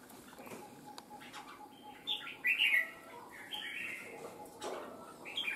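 Red-whiskered bulbuls kept in cages give bright chirps and short tweeting bursts, loudest around the middle, over a steady hiss of outdoor background noise.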